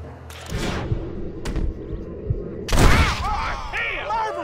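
Gunfire in Red Dead Redemption, several sharp shots with one heavy, loud blast near the end, mixed with voices and tense game ambience.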